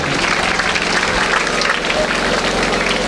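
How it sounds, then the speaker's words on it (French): A crowd of parents and pupils at a school year-opening ceremony claps for the top-performing students, a dense steady wash of applause filling the whole few seconds, with a low steady hum underneath. "Applaudissez pour ceux qui ont fait les meilleurs"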